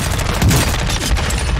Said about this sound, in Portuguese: É tiro pra todo lado